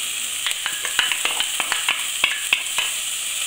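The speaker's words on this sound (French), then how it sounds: "Dans une casserole à fond épais, j'ai mis à chauffer mon huile d'olive. Je vais mettre donc mon oignon que j'ai coupé très fin" Finely chopped onion sizzles and fries in hot olive oil in a heavy-bottomed saucepan, a steady bright crackle with repeated sharp pops and stirring clicks throughout, close and without talk.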